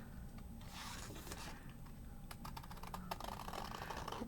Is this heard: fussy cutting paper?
yes